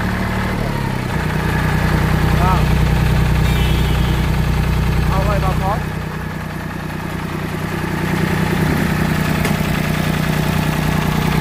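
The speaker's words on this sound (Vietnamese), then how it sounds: "nghe tiếng máy nè, máy nổ im ru nha anh em" A Mitsubishi 250 tractor engine idles with a loud, steady, low rumbling drone that eases slightly quieter partway through, with faint voices in the background.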